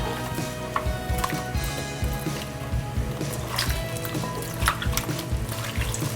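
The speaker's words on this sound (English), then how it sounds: "I'm gonna add 1 cup of water and 1/4 cup of white vinegar." Water and white vinegar poured into a bowl over sliced red onions for quick pickling, a steady close trickling and splashing running the whole time with small clinks of the container.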